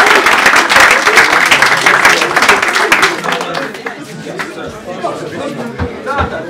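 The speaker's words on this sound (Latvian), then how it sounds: "sāgājam Jūri ar aplausiem." An audience at a Latvian improv comedy show applauds loudly and steadily, the clapping thinning to scattered claps in the last seconds.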